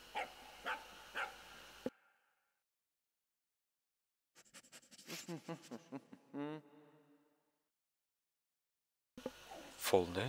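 A dog in the Axel & Pixel video game gives a short run of cartoonish barks and yips between stretches of silence, with a person talking at the start and at the end.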